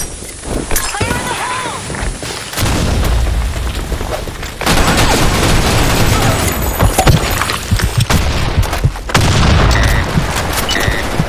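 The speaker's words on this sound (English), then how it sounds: "Grenade! Grenade!" Heavy grenade explosions and rapid gunfire in a first-person shooter game on a sandstorm map, with loud booms and dense bursts of shots, and shouting voices at times.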